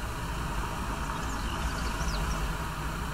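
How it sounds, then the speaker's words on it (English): A coach bus engine in a driving simulator game, a steady low drone humming continuously with a faint whine above it, no voices, evenly loud throughout. "I'm not sure what's going on with the engine sounds."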